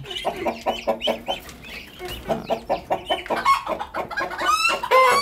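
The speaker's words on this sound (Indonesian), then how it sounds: "Ini adalah anakan entok ya. Mau saya kasih makan." Muscovy ducklings, about two weeks old, peeping at feeding time: a busy, close chorus of rapid high chirps that rise and fall in quick bursts.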